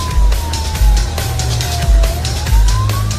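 A UK police car siren wails in a slow rising and falling sweep during a 2 a.m. pursuit, heard over a car engine's rumble with periodic thumps, fairly close.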